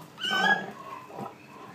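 A pig gives a short burst of oinking grunts, a louder one first and then a softer follow-up, close by with no voices.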